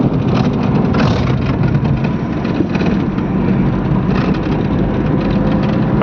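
A car driving along a road at about 60 km/h, with a steady, loud engine and road rumble running continuously throughout, close by and without any talk.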